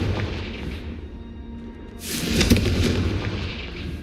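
A Confringo blasting spell in the Hogwarts Legacy game, a deep booming blast that swells into a loud, crackling burst and rumbles on for a couple of seconds.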